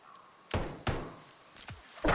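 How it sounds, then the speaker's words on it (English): A door is opened and slammed during a hardcore Search and Destroy match in Call of Duty Modern Warfare 3, giving several sharp, close thuds and bangs in quick succession over a low background hum, with no speech. "Somebody just opened a door by me."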